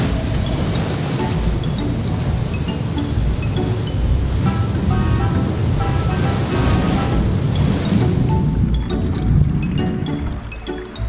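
Ocean surf rolls and breaks steadily around a stand-up paddleboarder riding a wave, a broad continuous wash of water that swells and churns up close, with faint splashes near the end.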